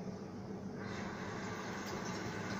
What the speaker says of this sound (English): Now let's turn on the water.